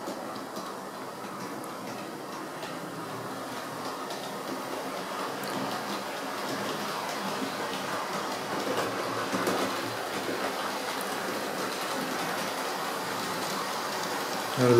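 A Bachmann Class 37 model diesel locomotive with a LokSound v4 sound decoder runs steadily, a soft continuous engine drone with faint rail ticks that swells slightly as it speeds up, heard alone and fairly quiet.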